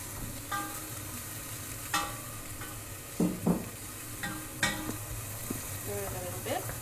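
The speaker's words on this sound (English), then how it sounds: "Stir it a little bit for 1 minute." Food stirred while frying in a pan, with a soft continuous sizzle broken by several distinct scraping clanks of the utensil against the pan, close and fairly clear with only faint background voice.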